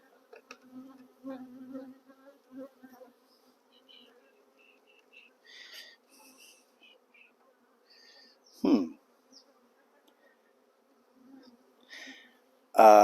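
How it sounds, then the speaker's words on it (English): Honey bees buzz around a moved box of bees, faint scattered hums coming and going with a few louder close passes near the end. "There's actually bees trying to get in down here"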